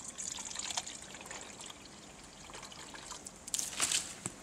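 Water swirled by hand while rinsing tomato seeds, a soft trickling and sloshing wash that rises into brighter splashy bursts near the end, close and fairly quiet with no voices.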